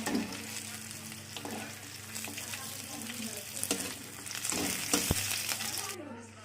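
Onion and garlic fry in a pan for a spicy onion-tomato thecha, a steady close sizzle with stirring clatter and a few sharp spatula knocks near the end.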